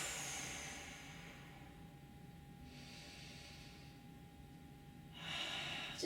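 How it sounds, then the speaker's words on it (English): Deep, slow breathing during a full body stretch, three long airy inhales and exhales spaced a couple of seconds apart, close and soft over a quiet background. "and breathe."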